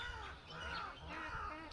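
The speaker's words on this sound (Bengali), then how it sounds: "কাক কাক করছে, কাক কাক" Crows cawing at dusk in a Sundarbans park at Jharkhali, a few harsh calls sounding at moderate distance over a steady low outdoor rumble.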